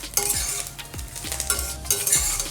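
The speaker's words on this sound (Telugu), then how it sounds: "చూసారు కదా కరివేపాకు అంతా వేగి మరమరలాడుతుంది చూడండి సౌండ్ చూసారా" Curry leaves with tamarind fry on a low flame in a pan, crackling steadily while a spoon scrapes and stirs in repeated strokes.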